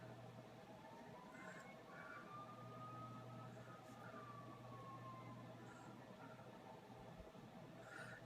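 A distant fire truck or police car siren wails in a slow rising and falling sweep, faint and far off outside, under a steady low hum.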